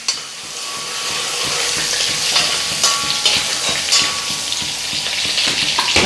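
Crushed garlic fries in a hot pan with a steady, bright sizzle and crackle, while light stirring scrapes and taps sound repeatedly throughout, close and fairly loud.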